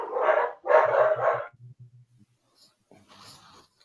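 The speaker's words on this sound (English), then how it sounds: "That was a dog all the way in the back." A dog barks far off in the background, a quick run of faint low yaps beneath and after louder nearby voices, with more talk resuming at the end.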